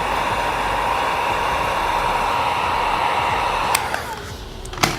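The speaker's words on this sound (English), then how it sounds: "grab your heat device, and focus on applying heat around the fingers" A heat gun blows a steady, loud hiss of hot air onto tint film on a Hyundai Ioniq 9 tail light, then drops away near the end with a couple of sharp handling knocks.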